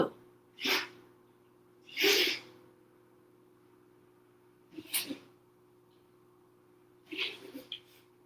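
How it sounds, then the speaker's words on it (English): A few sharp animal sneezes, spaced apart, close by with a quiet steady hum underneath. "he's sneezing then looking at me."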